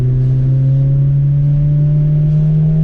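A 2001 Honda Civic project car with a freshly replaced transmission drives along the road, its loud engine holding a steady droning hum with no muffler.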